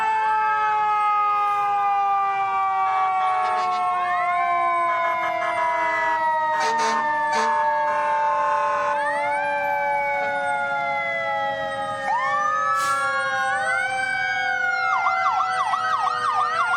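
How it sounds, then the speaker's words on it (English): Birmingham Fire and Rescue engines in a veterans day parade in Birmingham, Alabama sound several overlapping wailing sirens that rise and fall loudly and continuously, joined by short horn blasts and rapid yelping sweeps near the end. "Got engines from Birmingham Fire and Rescue Unit 1 right here."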